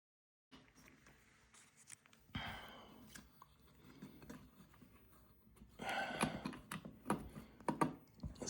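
Nuts and lock washers being spun off bolts by hand while replacing a ceiling fan on a sloped ceiling, quiet close metallic rattling, clicking and scraping in irregular bursts, no talk.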